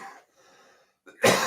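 Two short coughs, the first a bit louder, with a quiet breathy pause between them, then a loud burst of broadband noise at the end.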